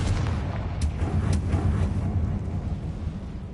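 A Confringo spell explosion in the video game Hogwarts Legacy, heard as a deep, sustained booming rumble with a couple of faint crackling pops on top, filling the whole moment at steady loudness.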